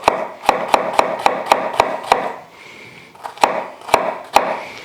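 A kitchen knife chops on a cutting board for tomato soup, a run of eight sharp, evenly spaced knocks, a brief pause with soft scraping, then three more firm chops.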